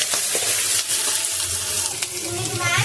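Onions sauté with salt in a pan for potato kurma, giving a close, steady sizzle and crackle with occasional stirring, partly under a voice.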